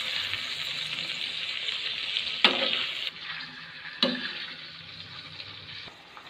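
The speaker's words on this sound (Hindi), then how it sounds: "अब इसके अंदर हम 1/4 कप ऑयल और ऐड करेंगे और इसको हमने सिर्फ 5 मिनट के लिए भूनना है तवे पर।" Mutton fries in oil on a tawa griddle with a continuous close, hissing sizzle, broken by a couple of sharp scraping stirs that briefly swell and then fade.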